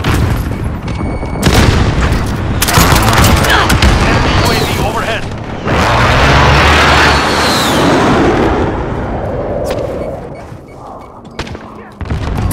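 Precision airstrike in a video game: a long stretch of heavy, rolling explosions and booming blasts with scattered gunfire, loud and dense throughout, under game announcer voice lines.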